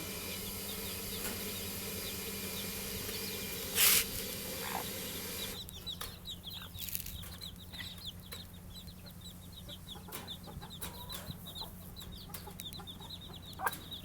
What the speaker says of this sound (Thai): ซิลกี้ผสมแจ้